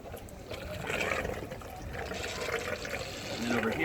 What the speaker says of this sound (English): the extra water pours out, so you know when it's full